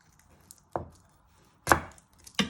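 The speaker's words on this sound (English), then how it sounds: "you first want to chop the ends off and peel the skin" A knife chops through the ends of garlic cloves on a board, giving three sharp, separate cuts spaced unevenly, each close and crisp, with quiet pauses between them and no talking.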